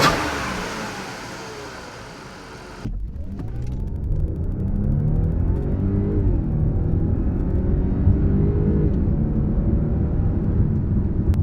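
An Audi 3.0T engine fitted with a new stock-style intake idles loudly and close, then settles into a steady, deep running drone with slight rises and falls in pitch.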